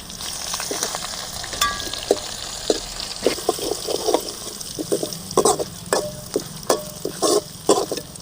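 Ten cloves of ground garlic fry with cumin, curry leaves and dried red chillies in a pan for gooseberry rasam: a steady close sizzle broken by frequent sharp clinks and scrapes of stirring.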